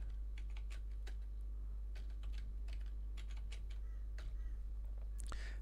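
Password typed on a computer keyboard, a run of quick light key clicks at an uneven pace over a low steady hum, quiet and close, with no talking.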